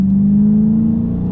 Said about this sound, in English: That's like a quarter throttle.